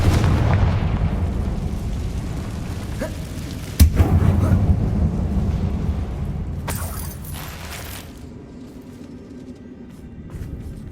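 A Confringo explosive spell cast in the game Hogwarts Legacy: a sharp impact followed by a deep rumbling boom that decays slowly over several seconds, with a brief hissing burst later, loud and close, no talk.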